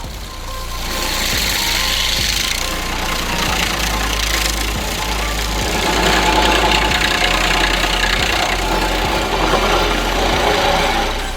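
A Massey Ferguson 265 tractor with a 60-horsepower engine runs hard during stump removal, its loud, steady diesel drone carrying regular heavy thumps throughout.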